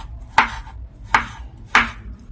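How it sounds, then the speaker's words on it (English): Fresh coconut is chopped into tiny pieces with a knife, giving three sharp, evenly spaced chops against a board, close and crisp with quiet pauses between and no talking. "I'm going to go ahead and chop it into tiny pieces."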